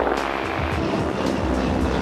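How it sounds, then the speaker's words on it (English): A propeller airplane engine roars steadily at full throttle during a wing-walking stunt, with loud prop wash and rushing wind filling the sound without a break. "But as he keeps the throttle up, the prop wash is blowing Yves even more than the wind rushing by."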